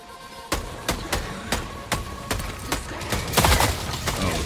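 Gunfire in the video game Helldivers 2, about ten sharp, loud shots spaced roughly evenly and building into a denser, rumbling burst near the end, with no talking.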